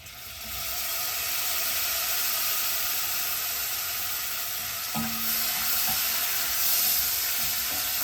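Scallops hit a hot pan for chowder and set off a loud, steady hiss of sizzling. The sizzle flares up again partway through as the pan is moved, with a few faint clinks.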